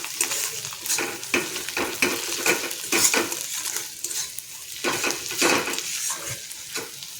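Kathiyawadi onion curry with fresh green coriander being stirred in a hot pan, a spoon scraping and clinking against the metal in uneven strokes over a steady close sizzle, with no talking.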